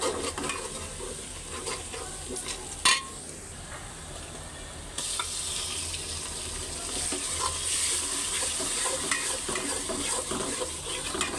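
Ground spices with ginger-garlic paste, chili, turmeric, coriander and cumin sautéed for khichuri, a constant close sizzle with scraping stirs and an occasional clank of a utensil against the pot, the frying turning brighter partway through.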